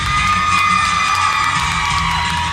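A dense, loud convention crowd at a cosplay national championship at L.A. Comic Con 2024 cheers and whoops steadily throughout, a continuous wash of voices with no pauses.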